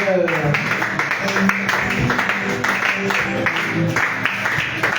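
Church congregation clapping and calling out in praise, a dense steady wash of hand claps and voices filling the room throughout.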